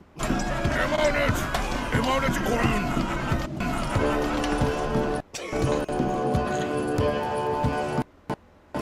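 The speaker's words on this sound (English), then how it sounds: "Look at the horse." Hoofbeats of a horse in the fantasy game Dark and Darker, rapid repeated thumping clops mixed with glitchy in-game audio and music, loud and busy, with a few abrupt cutouts near the end.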